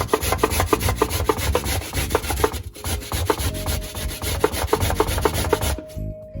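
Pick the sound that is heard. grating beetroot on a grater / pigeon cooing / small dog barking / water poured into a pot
grating beetroot on a grater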